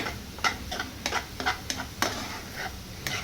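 Vegetables soften in oil in a pan with chili powder and garam masala, giving soft sizzling and scattered clicks and scrapes of stirring in an irregular rhythm, close and fairly quiet, with no talking.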